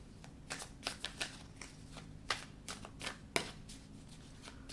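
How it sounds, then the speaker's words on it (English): Tarot cards riffled and shuffled in quick bursts of crisp, papery flutters, close up, with brief pauses and a sharper snap near the middle. "I want to shuffle to get the whole spread here."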